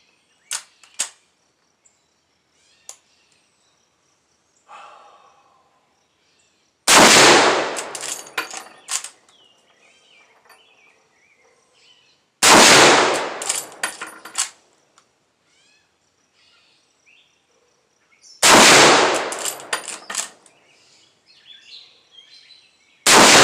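A Marlin .444 rifle fires three loud, booming shots at a target, spaced several seconds apart, each with a sharp crack and lingering echo, with faint clicks and handling noises between them.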